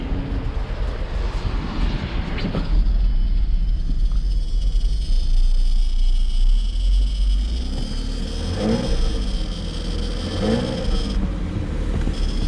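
An old Mercedes-Benz 300SL, left sitting for nine years, runs rough while trying to idle: a loud, close engine drone that surges and sags unevenly throughout.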